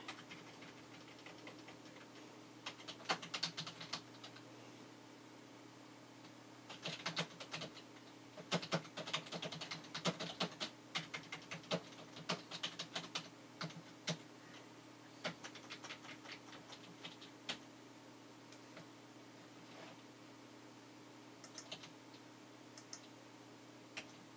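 Quiet keyboard typing in irregular bursts of clicks, close and soft, over a low steady hum, with a few pauses between runs of keystrokes.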